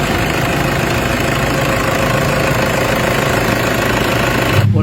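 A Toyota Hilux engine, its throttle delay and actuator problem just fixed, runs loud and close with a steady, rough mechanical drone that continues for the whole clip without a break.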